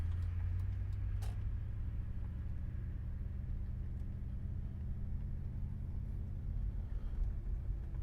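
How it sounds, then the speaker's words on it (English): Audi RS6 twin-turbo V8 exhaust giving a steady, deep low rumble while the car is driven, continuous and fairly close with no talking over it. "The exhaust note on these things are absolutely perfect. Really, really deep tone, deep rumble."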